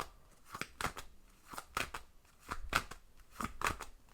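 Oracle cards are shuffled in a quick series of crisp riffling bursts, about five in a row, close and fairly quiet with no talking.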